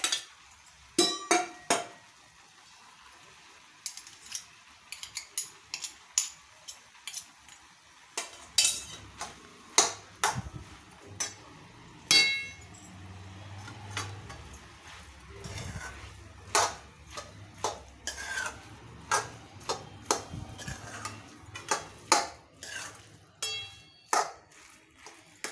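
Indrayani rice is sautéed on a tawa for a simple pulao, with many sharp metal spoon clinks and scrapes against the pan in an irregular rhythm, plus a soft sizzle underneath.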